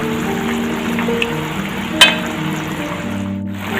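Pineapple pickle boiling uncovered in a pan over a gas flame gives a steady, close bubbling sizzle, with one brief clink partway through.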